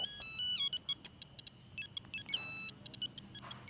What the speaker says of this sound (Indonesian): Bentar, Bang. Ada telepon.